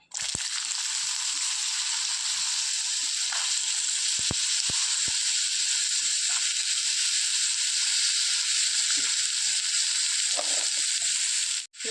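A whole pumpkin sizzles in hot coconut oil in a pan, giving a steady, loud frying hiss with scattered small crackles and pops throughout.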